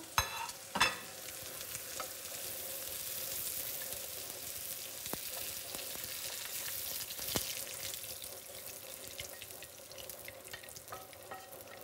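Fennel sizzles gently in hot oil in a pan, with occasional clicks and scrapes of stirring over the steady frying hiss.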